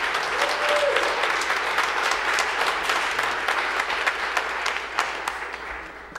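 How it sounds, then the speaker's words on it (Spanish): A congregation applauds its choir during a Sunday church service, a full room of steady clapping that holds strong and slowly thins toward the end, with a faint murmur of voices underneath. "le brindamos un fuerte aplauso a nuestro coro"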